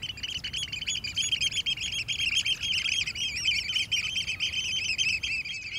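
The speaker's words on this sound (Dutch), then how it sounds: "Schooleksters zijn echte waddenvogels." Oystercatchers on the Wadden Sea fill the air with a dense, continuous chorus of sharp, piping calls, many birds calling loudly and rapidly over one another for several seconds with no voices.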